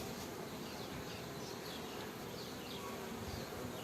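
A dense, steady drone of many honeybees buzzing together at a hive as young queens are released from capped cells, with occasional individual bees whining past close by.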